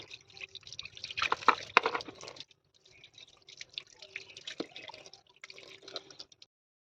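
Water splashes and drips steadily while freshly scaled fish are rinsed in a home kitchen, coming in uneven bursts with a louder, denser spell early on and lighter trickling afterward.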